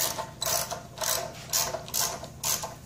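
A ratchet turns a spark plug socket on a Honda generator, sounding as about six rhythmic bursts of quick close clicking, separated by short pauses.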